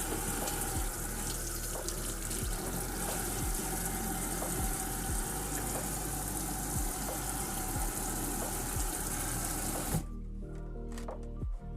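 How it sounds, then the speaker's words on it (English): Tap water runs steadily and loudly over crappie fillets being rinsed in a kitchen sink, a constant rushing stream that cuts off abruptly near the end. "After we get the fillets nice and rinsed off, cleaned up nice"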